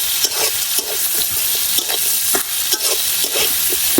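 Onion and garlic fry in oil for an egg dal curry, a loud crackling sizzle broken by scraping stirs of a utensil against the pan at an uneven pace.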